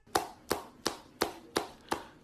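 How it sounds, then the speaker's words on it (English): Six sharp smacks of skin on skin in an even rhythm, each a crisp close slap spaced about a third of a second apart. "Booty clapping sounds!"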